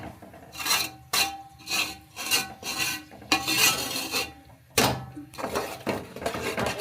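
Thickening malai is stirred and scraped in a pan while making thabadi. Repeated rasping strokes come in an uneven rhythm, close and moderately loud, with brief pauses between passes.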